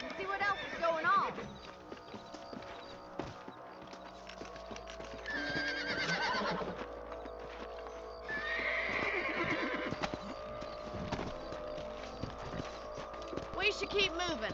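Horses whinny and neigh several times over clopping hooves, with game-style background sounds and occasional voices.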